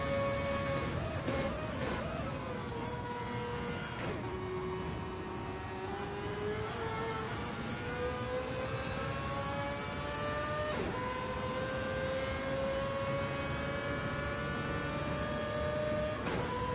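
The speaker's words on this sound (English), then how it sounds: "Hear this car scream." A Gr.1 race car engine screams from an onboard cockpit view in a racing video game at Daytona, its high tonal whine rising and falling with gear changes and sustained loud throughout.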